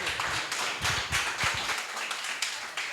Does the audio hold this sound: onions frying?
no